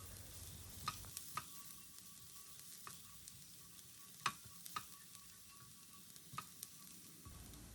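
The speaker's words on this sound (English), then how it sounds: "Now in the same pan, we'll add the finely chopped garlic." Finely chopped garlic, four large pods, sizzles in a pan while being stirred for a keto broccoli and paneer dish: a steady close hiss broken by several sharp spatula clicks and scrapes against the pan, with no talking.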